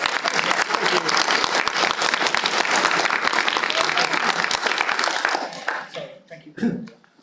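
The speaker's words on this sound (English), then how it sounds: "we can just applaud for the Priory Quilters" Warm applause for a quilting group at a town council annual meeting, a roomful of people clapping steadily and close before it thins out into a few scattered claps and murmuring voices.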